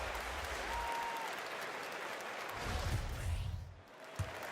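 A basketball arena crowd in NBA 2K19 keeps up a steady, full applause throughout, rising slightly near the end.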